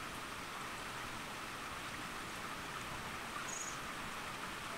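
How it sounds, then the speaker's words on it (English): Heavy rain falling outside, heard as a steady, soft hiss of pouring water that stays even throughout, fairly faint and with no voices. "the rain is just coming down worse and worse and worse and worse and worse."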